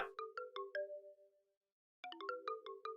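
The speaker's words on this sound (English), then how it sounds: "Whose phone is ringing?" A cell phone ringtone plays in the video game Deadly Premonition 2, a bright melodic chime pattern sounding twice with a short pause between, quiet and heard alone.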